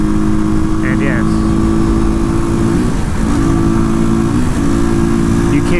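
A Janus Phoenix 250 motorcycle engine hums steadily at cruising speed on two-lane roads, a loud continuous drone with faint wind noise, while a rider talks over it throughout.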